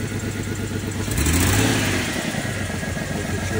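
A vehicle engine at a City of Norfolk auction runs after a jump start, a loud, close, steady mid-pitched rumble that swells briefly as it revs and then settles back to a running idle, with no voices.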